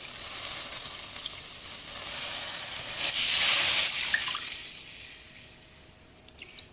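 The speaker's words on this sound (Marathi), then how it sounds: "ह्या अशा प्रकारे दोन वाट्या पाणी मी टाकते" Water is poured into a hot pan of roasted horse gram for soup, a loud hiss and sizzle that swells midway and then settles into a quieter bubbling, heard up close with no voices.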